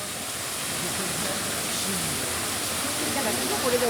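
Steady rushing water from a hot spring vent in Japan, a continuous broadband hiss holding at even loudness throughout, with faint murmuring of a crowd beneath it.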